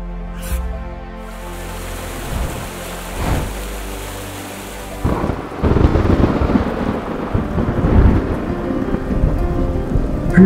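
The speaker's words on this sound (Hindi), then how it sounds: "वीडियो करते करते बहुत तेज बारिश आ गए।" Heavy rain pouring at Dassam Falls near Ranchi, Jharkhand, with deep rumbles of thunder, the downpour swelling louder partway through and a steady wash of rain continuing to the end.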